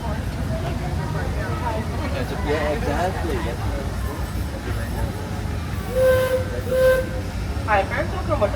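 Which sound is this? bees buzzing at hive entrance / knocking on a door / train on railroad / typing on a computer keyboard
train on railroad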